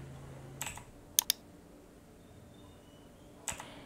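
A computer keyboard is pressed for a Ctrl T shortcut in Photoshop: a few crisp, close key clicks, including a quick double tap, then one more keystroke after a quiet pause, no talking.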